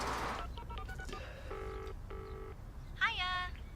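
A telephone keypad dials out a string of distinct beeping tones, one after another, followed by a short electronic chirp, over a steady background hum.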